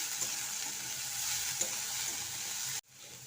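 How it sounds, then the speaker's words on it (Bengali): Radish greens with turmeric and chilli powder are stirred in a hot pan, a close, steady sizzle with soft scraping strokes that cuts off abruptly near the end. "তারপর শাকটাকে আবারও ভালোভাবে মিশিয়ে নিচ্ছি"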